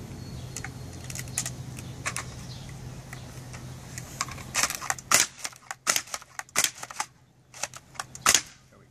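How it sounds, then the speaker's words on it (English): A homemade double-barrel Rainbow-style Nerf blaster is reloaded by hand, with a quick string of sharp plastic clicks and clacks, loud and close, growing denser toward the end. "Let me just reload this real quick."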